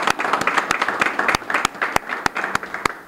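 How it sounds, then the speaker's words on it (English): Applause from an audience at a press conference for an HBCU scholarship, a dense run of claps with sharp individual hand claps standing out, steady and fairly close for a few seconds. "Let's give him a round of applause, Chancellor Davis"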